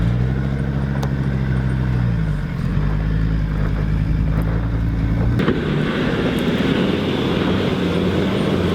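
Car engine labouring hard while towing a trailer up a steep offroad hill, a loud sustained drone that climbs and dips as the revs shift, with wind buffeting the microphone and no talk.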